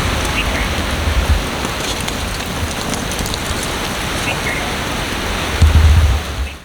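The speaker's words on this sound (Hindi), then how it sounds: "और हवा देखो," Wind blows outdoors beside a temple pond as a constant broadband rush, with heavier low gusts buffeting near the start and again toward the end.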